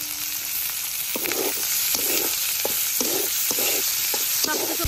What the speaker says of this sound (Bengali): সবকিছু ভালোভাবে ভেজে নেই